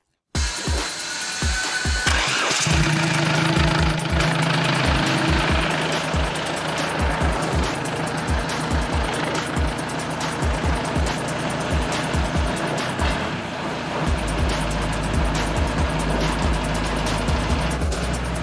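A futuristic car with freshly completed mechanics sets off for a test drive, its engine starting and running with a loud, rough, rhythmic mechanical clatter and whine that continues steadily throughout.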